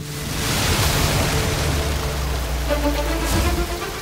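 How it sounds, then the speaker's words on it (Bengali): Water gushes from a burst water tank as a loud, broad rushing wash that holds steady for several seconds, with no talk over it. "সরে যাও গয়না, জলের ট্যাঙ্ক ফেটে গেছে।"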